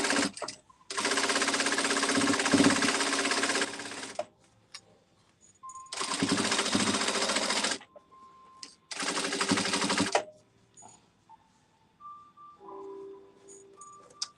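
A sewing machine stitching a seam on a holiday table runner, three loud steady whirring bursts of several seconds each, separated by quiet pauses with faint handling sounds.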